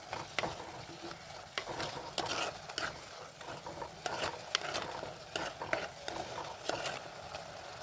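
Curry leaves crackling in hot onion-tomato masala for a Kerala fish curry, a fairly quiet steady sizzle broken by frequent spoon scrapes and taps against the pan, no talking.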